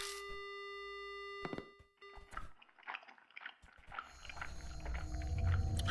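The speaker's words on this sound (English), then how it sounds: "The only sound I hear is the dial tone" A telephone dial tone in the game Spirit Hunter: Death Mark holds steady for about a second and a half, then cuts off into clicks and murky, rising ambient noise.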